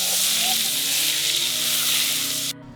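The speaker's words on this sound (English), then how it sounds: "Let's go ahead and melt it down first and listen to the sizzle." Butter melting in a pan for mushrooms and shallots gives a loud, steady broadband sizzle that holds evenly for over two seconds, then cuts off abruptly.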